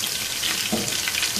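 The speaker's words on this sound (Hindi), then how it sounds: "सबसे पहले इसमें जिंजर गार्लिक पेस्ट डालेंगे। और इसको हल्का सा फ्राई कर लेंगे" Ginger garlic paste frying in a pan over medium flame, a dense, loud, even sizzle heard up close for a brief moment.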